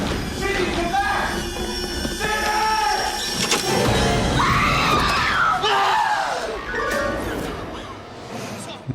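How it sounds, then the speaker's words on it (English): A man screams and yells wildly during a scene from the 1996 film Scream, loud and strained with rising, wavering cries, mixed with other voices and film sound. "I just said, scream as loud as she does, and he did this whole thing"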